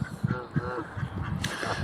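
Mallard ducks quack and Canada geese honk at a canal-side nature reserve, with several overlapping calls in quick succession at moderate distance.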